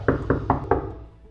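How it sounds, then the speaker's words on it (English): Four firm knocks land on an office door in a steady, evenly spaced rhythm, close and distinct, then fade into a quiet room tone with no speech. "There was a knock at her door."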